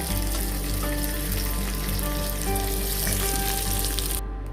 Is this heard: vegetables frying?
yes